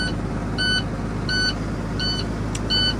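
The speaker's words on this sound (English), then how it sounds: "I think what you hear beeping now is the low air." A truck's low air pressure warning beeper sounds in a steady repeating pattern of short high tones over a low idling engine rumble.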